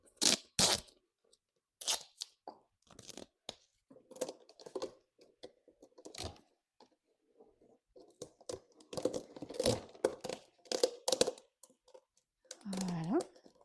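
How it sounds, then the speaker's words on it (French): Sticky tape is pulled and wrapped around a plant pot, torn in short crackling bursts with pauses between, close up, ending with a longer ripping stretch. "On met du scotch autour."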